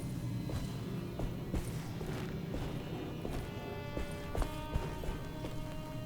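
Horse hooves clip-clop in a video game, a run of irregular hoof strikes over a dense, noisy background at fairly low level.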